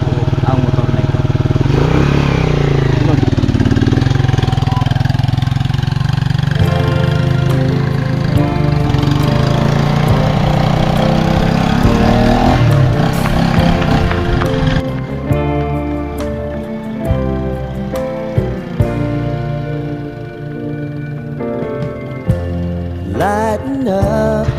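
A motorcycle engine running loud and close, a sustained buzzing drone that later breaks into uneven bursts and throttle blips, with what sounds like music and voices mixed in.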